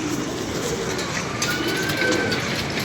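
Pigeons coo in soft, low murmurs, half-buried in dense, rushing background noise, with no clear voices.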